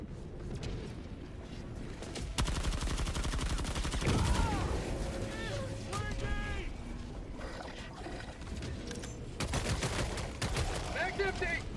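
Support weapon gunfire from Helldivers 2 hammers away in sustained rapid bursts, loud and close, amid mechanical clatter and battle noise, with voices talking over it.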